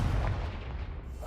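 A Confringo spell in Hogwarts Legacy detonates as a loud, sustained booming blast that fills the whole moment with heavy low rumble.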